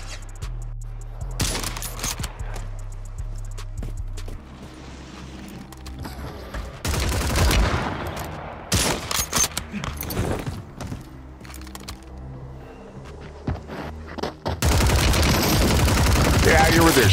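Shotgun fire in Call of Duty: Warzone: bursts of loud gunshots in clusters across a busy game soundscape, with heavy blasts near the middle and a dense roar at the end, voices speaking in between.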